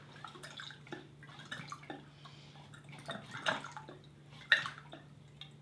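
Water from a large plastic jug trickles and splashes in uneven glugs during a penalty game, faint and irregular with small knocks and clatter around it.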